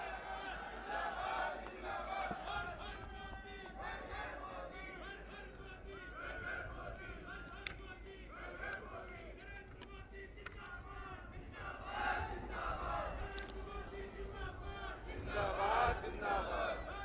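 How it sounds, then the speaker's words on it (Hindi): A large crowd at a public event in Kedarnath cheers and shouts for Prime Minister Narendra Modi, a steady roaring mass of voices that swells louder toward the end, with speech mixed in. "एक बार जोरदार तालियां नरेंद्र मोदी जी के लिए"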